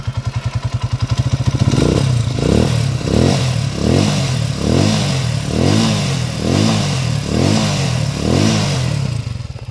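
A TMX155 motorcycle upgraded to a 200cc engine revs up close and loud, its idle rising into a steady series of rhythmic throttle blips with a slightly clattery edge.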